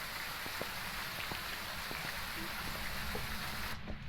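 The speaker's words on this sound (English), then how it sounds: "Oh my god, so much rain," Heavy rain pours loudly in a video game, a thick, continuous roar of drops with scattered sharper spatters, cutting off abruptly at the very end.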